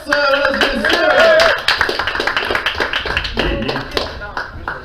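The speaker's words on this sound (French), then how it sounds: "On applaudit Alex!" Live audience at a poetry reading night clapping for a poet, dense applause mixed with cheering voices at first, then thinning into scattered claps and taps.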